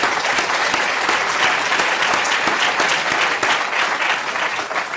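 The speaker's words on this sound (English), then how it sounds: "I think he deserves a round of applause for that" An audience at a Bristol lecture-series address breaks into sustained applause, a thick, even wash of many hands clapping with no break.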